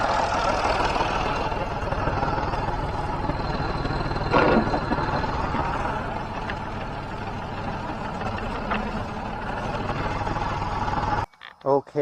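A farm tractor with twin wheels, pulling a field roller, runs with a constant close-up rumbling engine note for several seconds before cutting off abruptly.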